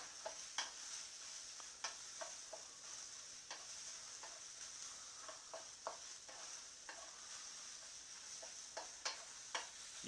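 Onions and garlic caramelizing over high heat in a hot wok, a constant bright sizzle punctuated by irregular clicks and taps of a utensil stirring.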